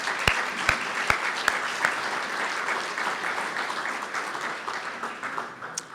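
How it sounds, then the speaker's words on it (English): Dinner audience applauding for newly named officers, a few sharp individual claps at first, then a sustained, even round of clapping from a roomful of guests. "I do think those officers deserve a round of applause."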